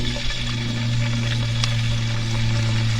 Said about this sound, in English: Let's get this bacon going.